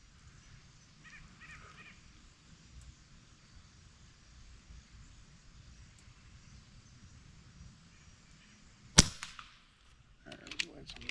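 An Avenge X air rifle fires a single sharp, loud crack partway through, fired from a portable shooting bench. A quieter mechanical clatter follows, all over a low, steady outdoor rumble.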